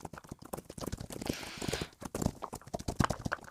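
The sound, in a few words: horses galloping in Roblox Wild Horse Island video game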